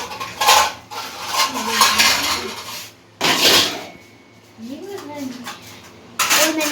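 Dishes and pots clatter as they are put away after washing up from a biryani meal, several clinks and knocks in bursts between pauses, with someone speaking over parts of it.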